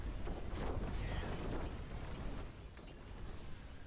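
Stun grenades going off in the video game Diablo IV, a steady wash of muffled explosive bursts and rumbling booms, fairly faint and continuous, fading slightly toward the end.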